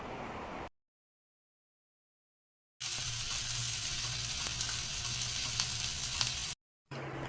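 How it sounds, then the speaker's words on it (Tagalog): Chicken hotdogs frying in the oil left from cooking eggs, giving a dense, bright sizzle that cuts in and out in two bursts with a long silent gap between them. "Dito ko na rin piprituhin yung chicken hotdog sa pinagprituhan ng itlog."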